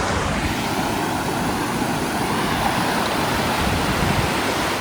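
A waterfall on the Bali Pass trek near Sankri roars in a steady, broadband rush of falling water, constant and fairly loud, with no voices.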